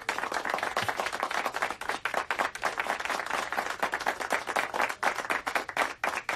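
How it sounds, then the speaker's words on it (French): An audience applauds a man being honoured, with many hands clapping in a fairly quick, crisp rhythm, moderately loud and steady throughout. "Je vous demande de l'applaudir"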